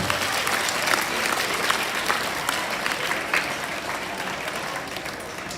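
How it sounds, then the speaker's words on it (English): Loud, steady applause from a large group of schoolchildren at a youth parliament event, many hands clapping together continuously and slowly easing off toward the end. "A very big hand clap for all these idioms."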